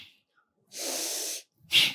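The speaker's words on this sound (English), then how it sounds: "exhale to pump the belly, Kapalabhati breath" Two forceful nasal exhales of Kapalabhati yoga breathing, the first a longer sustained rush of air, the second a short sharp puff, close and alone in near silence.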